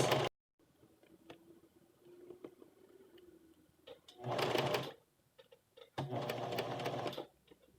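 A sewing machine stitches a blouse collar in two loud bursts of rapid mechanical whirring, separated by quieter handling of fabric and small clicks.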